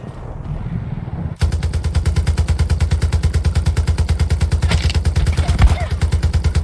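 Rapid automatic gunfire in the Far Cry 6 video game bursts in after a brief quieter stretch, then continues as a loud, fast, evenly spaced stream of shots.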